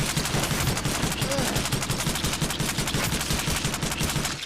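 M249 machine gun firing a steady, rapid full-auto stream in the video game Gorebox, loud and continuous throughout with a dense, even rhythm of shots.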